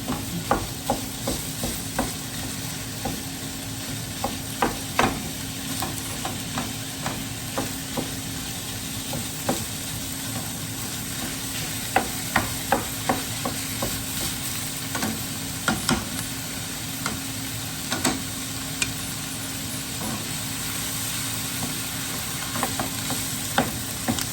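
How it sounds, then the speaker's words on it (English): Two pounds of ground beef for chili sizzles steadily in a pan while a utensil breaks it apart, with frequent scraping taps over the loud, continuous frying hiss. No voices. "So we'll go ahead and add our 2 pounds of beef. And go ahead and start breaking that apart."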